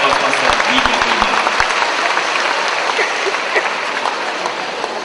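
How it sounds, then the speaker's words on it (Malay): Audience applause at the final round of the 2011 Prime Minister's Cup Malay-language debate competition, a dense, steady wash of clapping for a judge that holds for several seconds, with a few sharper claps near the start. "kita beri tepukan kepada Datuk Manja bin Ismail"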